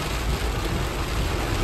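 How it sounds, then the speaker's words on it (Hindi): Torrential rain pours on a mountain trail near Lohajung during a cloudburst, a dense, loud, continuous roar of hiss and rumble with no break and no voices. "मूसलाधार बारिश हो रही है"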